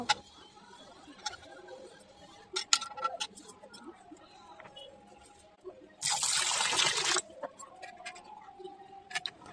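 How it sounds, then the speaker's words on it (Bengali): Pabda fish being rinsed in clean water, soft trickles and small splashes with clinks of handling, then a short, loud burst of running water before quieter dripping returns. "প্রথমে আমি মাছটাকে পরিষ্কার জল দিয়ে ধুয়ে নেব।"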